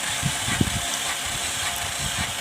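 Suzuki Wagon R engine cranking with the accelerator held fully down during a cylinder compression test, a steady hissing mechanical churn with faint rhythmic ratcheting pulses throughout.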